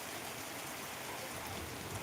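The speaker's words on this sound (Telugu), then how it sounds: "కొంచెం తీవ్రంగానే కొడుతుందని చెప్పచ్చు వర్షం" Heavy rain pours steadily in a broad, continuous hiss, close and unbroken throughout, with no voices.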